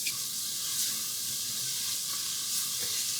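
Finely chopped onion sizzles steadily in a pan on the stove, a close, even hiss with faint stirring, no voices.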